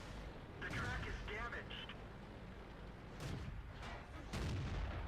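A VK 30 02 D tank in World of Tanks fires, producing a few heavy booming blasts and bursts of battle noise in the background, with a voice talking over them.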